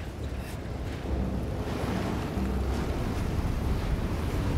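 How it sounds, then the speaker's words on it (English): Heavy ocean waves in the horror game Still Wakes the Deep roll and roar continuously, a broad, loud wash of surf and wind that swells slightly partway through. "Look at the freaking waves."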